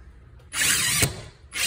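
A power drill drives screws into a wooden wall stud, a brief loud whirring burst that ends with a short pause and then starts up again, close up and without voices.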